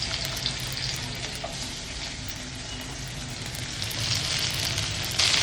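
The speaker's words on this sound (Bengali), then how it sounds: "রসুনটাকে প্রায় 3-4 সেকেন্ড এইভাবে একটু ফ্রাই করে নেব।" About eight to ten cloves of chopped garlic fry in hot oil with a dense, crackling sizzle up close, spitting and popping continuously and swelling slightly louder toward the end, with no talking.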